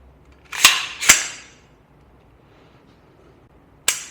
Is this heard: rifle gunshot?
yes